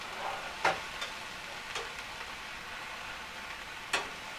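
Onions frying in a pan with a soft, steady sizzle, broken by a few sharp clicks and scrapes of stirring, close and quiet with no talking.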